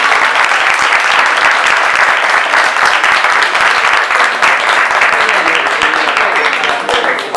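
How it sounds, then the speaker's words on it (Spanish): An audience at a science outreach panel talk breaks into sustained, dense applause for the panelists, loud and steady throughout. "Un aplauso."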